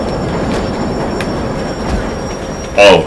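A moving train in the Def Jam Fight for NY fighting game, a steady rolling rumble with a sharp metallic squeal bursting out near the end.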